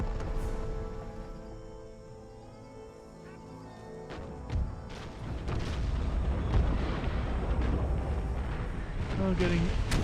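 12-pounder cannons firing in Empire Total War during a Gibraltar defence battle: scattered distant booms and rumbling bursts over a low, continuous battlefield din.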